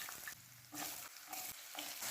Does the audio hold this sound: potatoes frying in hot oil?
yes